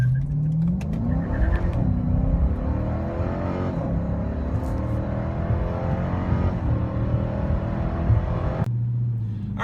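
A Dodge Charger RT V8 with a Flowmaster axle-back exhaust and resonator delete revs repeatedly, its deep rumbling idle rising into loud, sweeping climbs and dropping back, with no talking.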